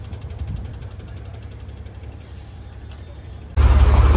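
A city bus in Mumbai idles close by with a low, steady engine drone, and a sharp burst of hissing air-brake release cuts in loudly near the end.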